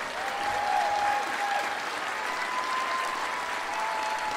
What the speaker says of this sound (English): Let's have a final round of applause for all of those Department Award winners.